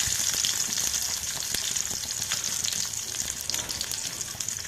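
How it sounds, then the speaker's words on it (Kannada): Garlic and onion sizzle in hot oil for radish chutney, a loud, continuous close-up frying hiss with small crackles and pops throughout, no voices. "ಈಗ ಎಣ್ಣೆ ಬಿಸಿಯಾದ ಮೇಲೆ ಬೆಳ್ಳುಳ್ಳಿಯನ್ನು ಹಾಕಿ ನಂತರ ಈರುಳ್ಳಿ ಹಾಕಿ"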